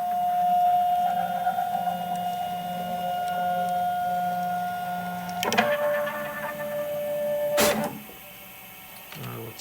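A DIY CNC mill built from salvaged parts and scrap metal drives its axes back to home position, giving off a steady motor whine and hum that shifts pitch midway, ending with a sharp clunk and brief mechanical rattles.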